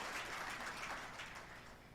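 A dinner-event audience in Dallas breaks into applause, a dense wash of many hands clapping at moderate distance that gradually tapers off.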